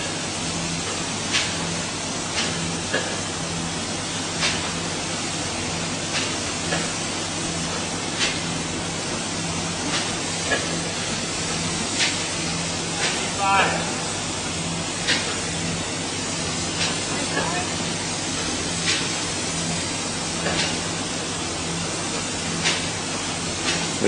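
Polyurea floor coating sprayed from a Reactor E-XP2 spray rig, a steady broadband hiss that runs unbroken throughout, with faint periodic ticks and clicks layered over the constant spray noise and no voices.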